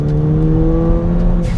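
A Ford Fiesta ST engine with over 250 bhp hums steadily with a sustained low drone, rising slightly in pitch as it accelerates, heard close and loud with no talking.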